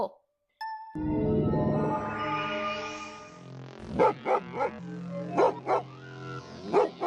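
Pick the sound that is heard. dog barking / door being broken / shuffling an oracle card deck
dog barking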